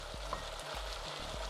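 Onions sizzle and fry steadily in a pan, a continuous close crackle broken by soft low scraping or stirring strokes at regular intervals, with no talking.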